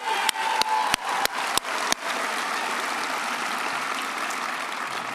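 A crowd at a university convocation applauds the marching band, a few sharp claps opening into a steady, full round of clapping that fills the hall.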